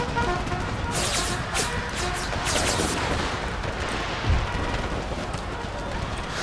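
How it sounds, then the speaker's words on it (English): Musket volleys and artillery fire in an American Civil War game mod, with dense, continuous crackling gunfire and a few heavier booms, loud and busy throughout. "And my line infantry started opening fire off Union militia marching forward."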